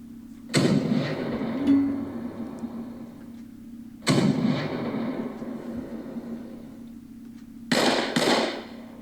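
Artillery fire in the WDS Panzer Campaigns wargame: three loud, booming shots, each with a sharp attack and a rumbling decay, the last a quick double blast, heard alone without talk.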